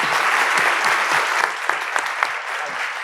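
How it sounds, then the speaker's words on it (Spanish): Applause from the audience for the panelists at the close of a Spanish-language panel on euthanasia, dense steady clapping throughout with a few sharper individual claps standing out. "el aplauso es para nuestros panelistas y para todos ustedes"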